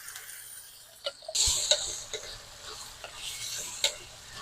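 Chicken and mushroom stir fry sizzling in a pan, a soft steady frying hiss with occasional clinks and stirring taps, close and fairly quiet, with no voices.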